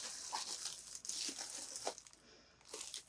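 A plastic bag from a vacuum-sealed delivery crinkles and rustles in uneven bursts while being unpacked, close to the listener, with no talking.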